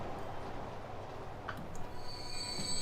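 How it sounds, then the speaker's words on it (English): Train wheels squeal on a curve at top speed in the Transport Fever game, a faint steady grinding rumble with thin high-pitched screeching tones coming in toward the end. "I like the sound when your trains are reaching the maximum speed for the train tracks in a corner. You will hear the wheels scream."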